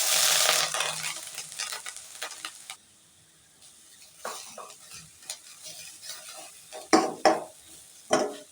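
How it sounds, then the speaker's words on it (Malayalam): Half a cup of grated coconut dropped into hot oil for temple-style chutney: a loud sizzle at first that drops away, followed by scraping stir strokes and clinks of a spoon against the pan. "ചൂടായ എണ്ണയിലേക്ക് 1/2 കപ്പ് തേങ്ങ ചിരകിയത് ഇട്ട് കൊടുക്കാം."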